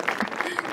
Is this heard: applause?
yes